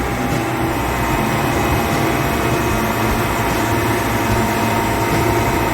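A three-phase induction motor at its rated 415 volts with no load, spinning near 1500 rpm, gives a steady, loud electrical hum with a constant whine that holds without change throughout.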